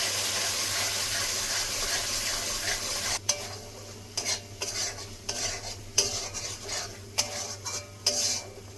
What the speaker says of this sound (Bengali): এবার আরেকটু কষিয়ে নেবো মশলার সঙ্গে।